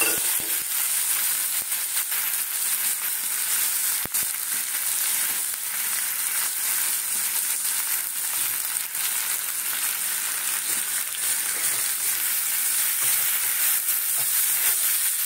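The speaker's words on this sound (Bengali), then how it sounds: "এইটাতে দেবো এই যে ডাল, সমস্ত ডালগুলো দিয়ে দেবো।" Chana, mung and masoor dal frying in a pan for daliya, a constant bright sizzle that stays even and loud across the whole stretch.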